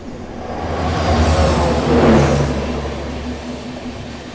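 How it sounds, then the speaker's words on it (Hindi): The Wellington Express approaches on a steep ghat section of railway, its diesel engine rumble swelling to a peak midway and easing off, with a steady low drone throughout and no voices. "ये सामने से मोस्टली वेलिंगटन एक्सप्रेस आ रही है"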